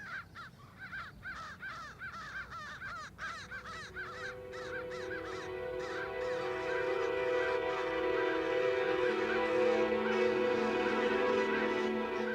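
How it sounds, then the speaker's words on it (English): Many crows caw harshly and repeatedly in a noisy overlapping chorus while mobbing a great horned owl, over a rising background of sustained tones. "a great horned is being mobbed by a flock of crows."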